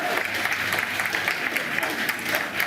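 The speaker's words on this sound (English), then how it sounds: "you can hear the applause as he enters number 10 as Prime Minister" A crowd applauds as the prime minister enters Number 10, steady clapping mixed with a murmur of voices at moderate distance.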